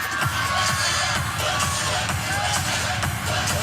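Crowd at a college gymnastics meet cheering and shouting steadily throughout, a dense, loud wash of voices with scattered whoops.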